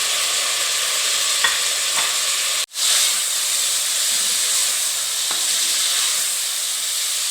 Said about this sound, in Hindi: बस इस तरह से ऑयल डाल के इसको हल्का सा हमने सौते कर लिया